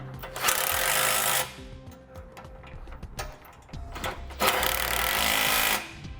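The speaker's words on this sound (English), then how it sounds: "Now we'll run down these bolts to snug them up." A power tool runs down bolts on a base plate for a 2015 Jeep Cherokee, two long loud buzzing whirs with clicking and metal clatter between them.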